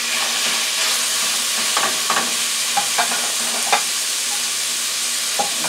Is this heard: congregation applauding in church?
no